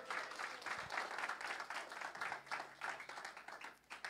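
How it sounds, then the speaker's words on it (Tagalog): A church congregation applauds steadily during a worship service, a dense wash of clapping that continues through the whole stretch at moderate level without letting up. "The best na palakpak para kay Lord"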